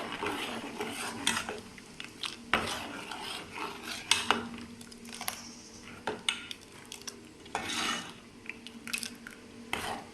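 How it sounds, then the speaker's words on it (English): A spoon scrapes and clinks against a pot of cooking oat porridge in irregular strokes, with soft wet stirring sounds, close up and without talk. "And kind of stir it a little bit."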